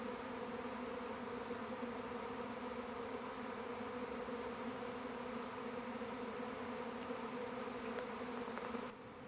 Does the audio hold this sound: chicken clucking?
no